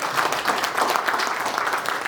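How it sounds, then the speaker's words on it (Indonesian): Church congregation applauding, a steady wash of many hands clapping at moderate loudness throughout, with no talking over it. "Tepuk tangan bagi Tuhan"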